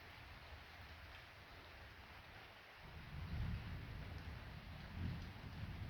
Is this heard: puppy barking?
no